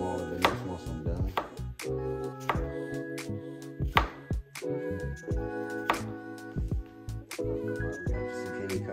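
A knife chops zucchini on a cutting board during a backyard barbecue cook, a quick run of sharp, close knocks in an uneven rhythm over a steady low background hum, with no voices.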